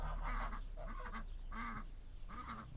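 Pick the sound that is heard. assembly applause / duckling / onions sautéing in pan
duckling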